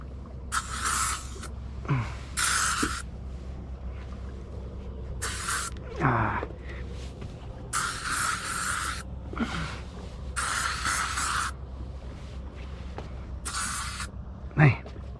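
Bug spray sprayed from an aerosol can on a fishing boat: repeated short bursts of loud hissing spray, about eight in all, with a low engine hum and some talk in the background.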